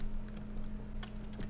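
A computer keyboard is typed on during a Minecraft game session, soft quick key clicks faint beneath a steady low electrical hum.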